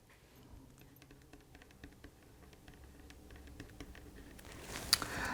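A pen scratches and taps across the paper page of a Classic Happy Planner, quiet close-up scribbling in short irregular strokes, with a brief rustle near the end.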